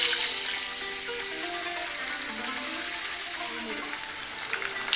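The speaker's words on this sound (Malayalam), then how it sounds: "കോളിഫ്ലവർ നമുക്ക് ബ്രൗൺ ആകുന്നത് വരെ ഫ്രൈ ചെയ്തെടുക്കാം" Cauliflower fries in oil in a pan with a steady bubbling sizzle, close and moderately loud, with faint clinks and stirring sounds over it.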